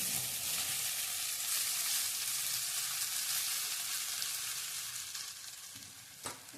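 Poha frying in a pan with onion and turmeric gives a steady, close, continuous sizzle throughout, with light stirring scrapes near the end.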